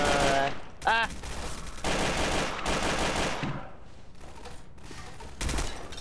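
Automatic RPK machine gun fire in a video game comes in loud sustained bursts with short pauses across the whole stretch, dense and close.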